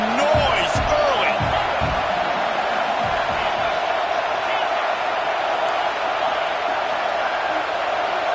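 A college football stadium crowd roars in a steady, dense wash of noise at a game between Alabama and Texas A&M, loud and continuous throughout, with a few thumps and whoops near the start.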